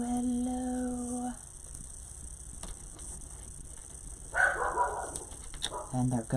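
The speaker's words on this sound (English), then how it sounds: "And there go the dogs." Dogs bark in short bursts partway through, at moderate distance, with a voice and other household sounds around them.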